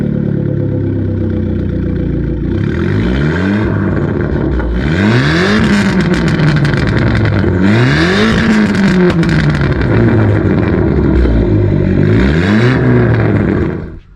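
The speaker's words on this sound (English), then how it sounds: "Let's have a listen to the beautiful Borla exhaust system in this car." Modified 200 bhp Abarth Punto with a Borla exhaust, loud and close, revved in several rising sweeps over a steady idle, each blip climbing and falling back, with a crackly roar at the peaks.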